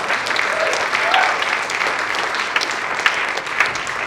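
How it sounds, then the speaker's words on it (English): Steady applause carries on from an audience following a youth poetry performance, moderately loud clapping with a few sharper claps standing out near the end. "Give him another round of applause."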